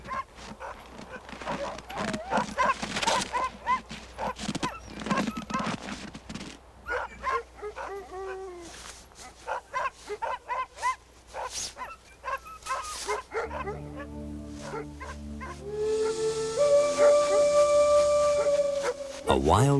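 Sled dogs at a remote Alaskan homestead bark in sharp, repeated bursts and whimper between them, some close and some farther off. Later a sustained tonal sound rises beneath the dogs.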